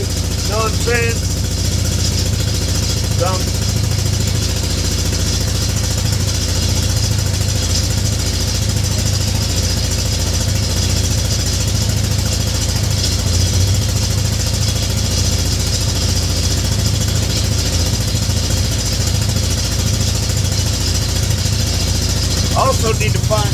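A Yamaha Grizzly ATV with a backfiring problem idles steadily, giving a constant low engine rumble with a few faint ticks and clicks over it.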